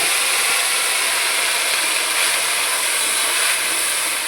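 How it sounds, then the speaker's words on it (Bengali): Carrots and beans frying in hot oil for a home-style vegetable khichuri, a steady loud hiss and sizzle running continuously without pause and no voices. "ওই তেলের মধ্যে গাজর আর বিনস ভেজে নেব।"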